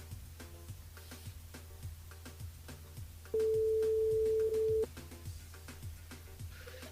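A radio station's call-in line rings out toward a listener in Salazie: a single steady electronic ringing tone lasting about a second and a half, over quiet background music on the air.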